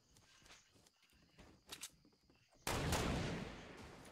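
Footsteps and scattered game sounds in Fortnite lead into a sudden loud burst of gunfire partway through that sustains, then tapers slightly.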